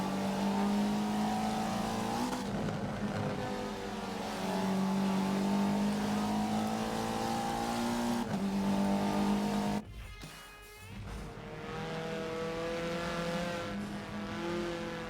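A 2017 Mercedes-Benz A-Class race car in a sim racing game on Dubai's Mountain Circuit reversed, its engine droning and shifting pitch through gear changes, with a sharp drop and rising rev partway through.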